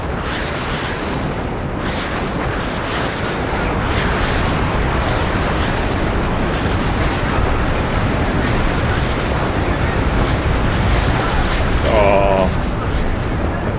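Continuous heavy rumble of rocket barrages and explosions in the strategy game WARNO, a dense roaring wash with a brief tonal burst near twelve seconds.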